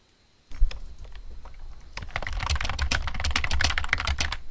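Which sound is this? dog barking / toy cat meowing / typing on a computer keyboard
typing on a computer keyboard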